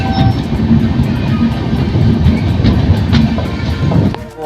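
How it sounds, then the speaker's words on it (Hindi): The Janhit Express rumbles into Shahpur Patori railway station, a loud, steady low roar with faint rhythmic rattling of the coaches and a brief tonal squeal near the start, with no voices. "ट्रेन हमारी अराइव करी है शाहपुर पटोरी रेलवे स्टेशन पर।"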